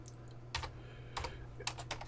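Arduino code being typed on a computer keyboard, three short clusters of soft key clicks over a low steady hum, close but quiet.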